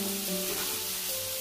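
Garlic, chilli, onion and tomato paste frying with turmeric stirred in, giving a dense, steady hiss of sizzling oil up close, brief and continuous.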